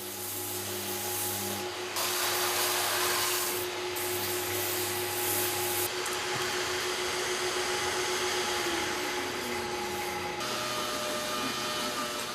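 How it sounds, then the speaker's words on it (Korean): Power sander working over a car body panel during bodywork restoration of a worn used car, a steady broadband whirring hiss that swells and eases in passes with a low hum beneath, no talk. "샌딩을 통해 표면을 정리해 줍니다"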